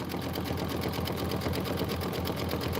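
A machine embroidery stitch-out in progress on a Kimberbell Enchanted Winter design, giving a steady, close, continuous rhythmic hum and needle chatter with no talking.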